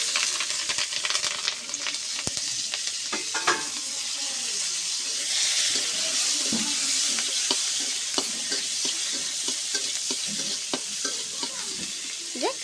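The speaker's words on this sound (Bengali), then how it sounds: "এবার এখানে সেই ধনিয়া পাতা, কাঁচা ঝাল, রসুন আর পেঁয়াজগুলো একসাথে ভেজে নেব।" Coriander leaves, green chilli, garlic and onion fry together in hot oil, a loud, steady sizzle broken by frequent scraping and stirring clicks, with no talk.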